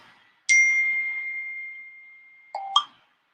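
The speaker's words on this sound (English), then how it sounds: "My phone keeps going off, guys." A mobile phone notification chime rings out loud and clear as one long, slowly fading tone, then a short two-note alert follows near the end, in an otherwise quiet room.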